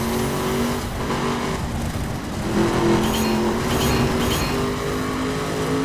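A car races over rough terrain in The Crew video game, its engine revving hard and steadily with shifting pitch, loud and close, with gravelly tire noise and no talk.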